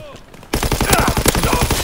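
Rapid automatic gunfire from Call of Duty: WWII erupts suddenly after a quiet start, a loud fast burst of closely spaced shots with a voice underneath.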